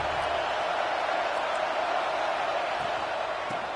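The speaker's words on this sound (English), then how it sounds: "This dog crowd is off the leash, and they are coming after them, bringing noise on third down." A college football stadium crowd at a Georgia versus Coastal Carolina game roars on third down, a loud, steady, dense wall of noise that holds for the whole stretch with no clear break.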